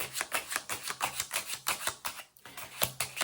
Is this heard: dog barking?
no